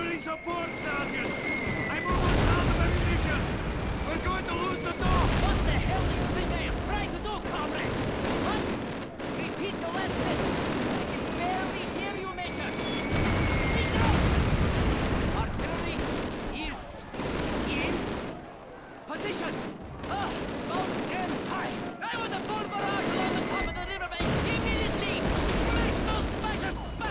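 Artillery fire and explosions rumble and crack through a World War II battle in Call of Duty, heavy blasts and gunfire piling up in a dense, continuous din while voices shout over the fighting.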